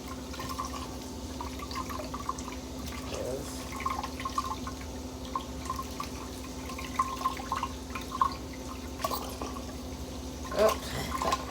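Tap water runs steadily as peeled food is washed in a sink, with faint drips and small clatters over a constant low hum, no talking.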